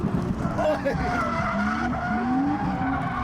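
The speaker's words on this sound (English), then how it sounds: "Can't beat the sound of that 1J popping off the limiter." A revving Toyota 1JZ engine in a drifting BMW M140i wavers and holds at high pitch, popping off the limiter, with tyre squeal and voices nearby over the racket at Santa Pod.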